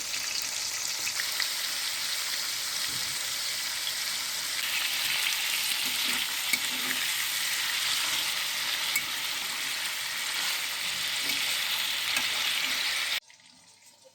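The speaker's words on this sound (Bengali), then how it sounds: "এখন চিংড়ি মাছটি সর্ষের তেলে ভাজা হচ্ছে" Prawns sizzle and crackle steadily in hot mustard oil, a dense, close frying hiss that holds evenly for about thirteen seconds before cutting off abruptly into near silence.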